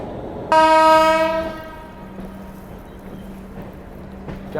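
A locomotive near the Tata loco shed sounds one loud, sustained horn blast at close range, then fades into the low rolling rumble of the passing train.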